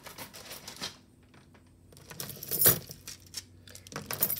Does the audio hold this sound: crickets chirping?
no